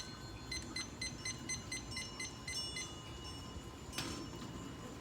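Evenly spaced electronic beeps repeat as a timer is being set, faint against quiet room hiss, with a soft clunk near the end.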